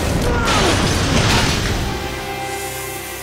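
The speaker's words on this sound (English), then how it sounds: "We're gonna send 300 gallons of water through some windows." Three hundred gallons of water crash through windows on a film set: a loud, broad, rushing roar that fades into a steady wash.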